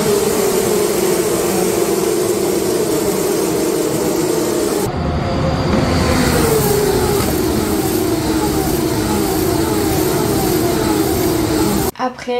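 Formula 3 and Formula 2 race cars roar past at Monza, a loud continuous engine drone with rising and falling pitch as cars pass close by.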